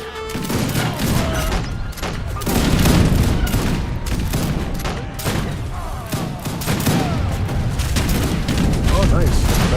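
Cannon fire in the real-time strategy game Age of Empires 3 (Wars of Liberty mod): a dense, continuous fusillade of booming shots and battle clatter throughout, loud and layered like a large engagement.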